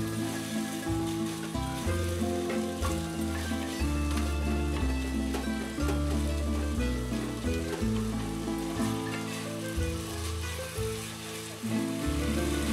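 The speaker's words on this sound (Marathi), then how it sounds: "आता तांदूळ खिम्यात व मसाल्यात छान भाजत रहा" Soaked rice being fried in ghee with kheema and spices for kheema pulav, giving a steady, continuous sizzle under a prominent tonal background.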